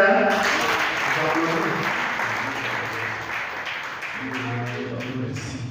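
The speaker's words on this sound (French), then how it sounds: "regarde, ça s'applaudit, hein?" A crowd at a football tournament equipment-handover ceremony in Logoualé claps steadily for several seconds, while a voice talks over the applause.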